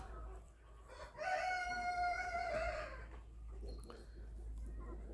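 A Cochin rooster crows once in a garden, a long, loud, drawn-out call standing clear over a steady low outdoor hum.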